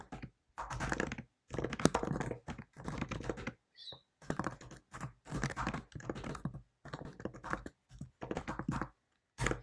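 Bursts of typing on a computer keyboard while entering Python code for a PySimpleGUI graphics program, rapid clustered key clicks separated by short pauses, close and fairly loud with no talking.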